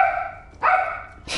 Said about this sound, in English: Luis been barking literally all day.